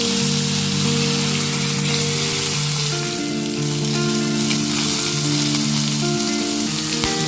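Spices tempering in hot oil left over from frying potatoes, a loud continuous sizzle and crackle with a steady tonal hum behind it and a sharp click near the end.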